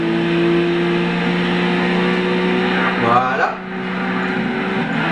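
A Subaru BRZ race car engine drones steadily in Gran Turismo 6 qualifying at Brands Hatch Indy, a sustained high-pitched engine note with a brief shift near the end, under someone talking.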